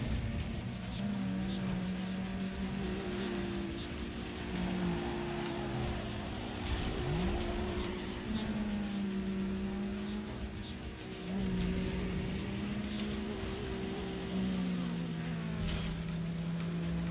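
Racing car engines in Need for Speed Underground 2 on an illegal street circuit, with a steady, loud drone of revving motors and shifting pitch as cars jostle to overtake, continuous throughout with no talk.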